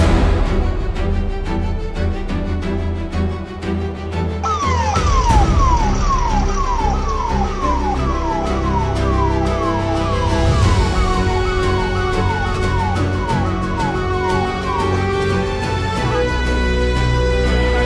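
A loud ambulance siren wails, sweeping up and down over and over, close and continuous, above a heavy rumble of Delhi street traffic.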